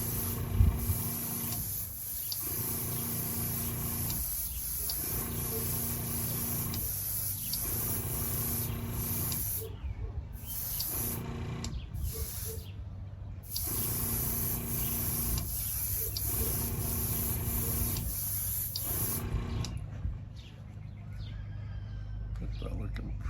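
An airbrush or spray can lays a third coat of paint on the hood of a modified model racer car, producing repeated close hissing bursts separated by short pauses over a steady background hiss.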